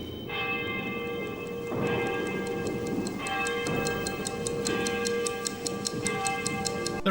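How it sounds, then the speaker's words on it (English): A steady clock ticks in a regular rhythm while resonant bell-like chimes ring out every second or so over a low background rumble, from a Final Fantasy VIII demo. "This also includes different sound effects, such as the helicopter noises and a ticking clock."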